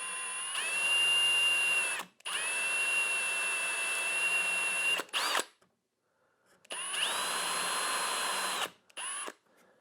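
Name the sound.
power drill drilling a hole for replacement bolt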